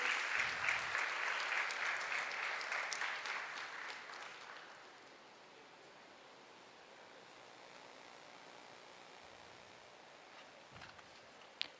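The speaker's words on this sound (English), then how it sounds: "Give a round of applause to both of them." Audience applause at a pharma conference hall: dense, loud clapping for several seconds that fades out to quiet room tone, with a faint knock near the end.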